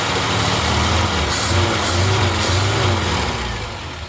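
A ratrod Morris Minor engine, run with no choke and missing slightly on one cylinder, rises and falls through several throttle blips in a steady low rumble for about four seconds, loud and close with no voices.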